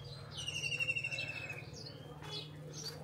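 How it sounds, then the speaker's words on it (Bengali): Birds chirping and calling around a rural Bangladeshi home, several high bird calls and tweets coming from close by, with a faint low hum running beneath them. "আমার বাড়িতে দেখেন কত সুন্দর পাখির ডাক"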